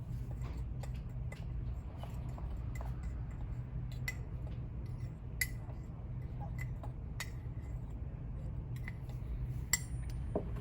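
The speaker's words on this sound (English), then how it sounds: "we're just going to use a fork to mix those all together" A fork clinks and scrapes against a bowl while stirring cocoa powder, sugar and salt for a lava cake, giving light, irregular metallic ticks over a low kitchen hum.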